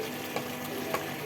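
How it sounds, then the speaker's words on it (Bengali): Chicken roast pieces go into spiced oil and fry with a soft, continuous sizzle at low volume, broken by a couple of faint clicks or stirring taps. "এই যে রোস্ট মানে চিকেনগুলি দেওয়া হচ্ছে মশলার মধ্যে।"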